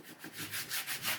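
Close, rhythmic back-and-forth strokes of sanding on a filled, plastered metal part from a vintage Monark 1243 moped under restoration, with steady repeated passes and no voices.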